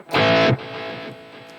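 A high-gain distorted electric guitar chord from a Mooer GE300 preset strikes once, loud and brief, then rings out in a quieter sustained tail.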